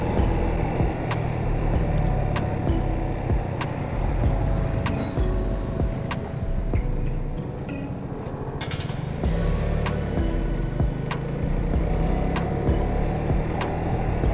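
Motorcycle engine laboring over a rough, rocky road on a ride to the Angono–Binangonan petroglyph cave in Rizal, a loud continuous rumble with rattling knocks and clatter from the uneven surface.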